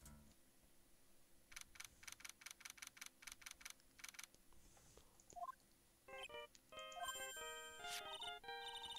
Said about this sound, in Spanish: el teléfono. No me gusta cómo suena.